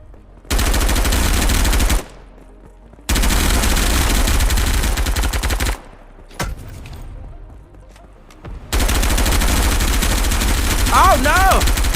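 Bursts of automatic gunfire from a video game gun in a competitive match, loud and close, in three sustained volleys separated by short pauses, with a person's voice rising briefly near the end.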